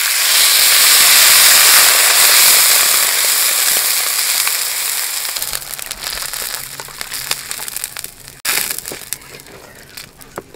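Water is poured into a hot pan of fried potatoes for a fish curry, and it bursts into a loud, rushing hiss that slowly fades into lighter crackling and bubbling.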